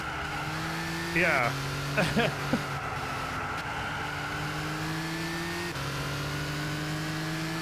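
Race car engine from the Gran Turismo 6 video game, a steady droning hum with shifts in pitch and a brief tire squeal, running beneath a live streamer's voice.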